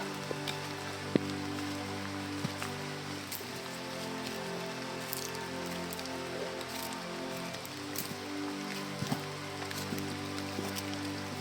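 Steady rain patters on surfaces outdoors, a continuous even wash of drops with occasional louder individual hits, moderately loud and close.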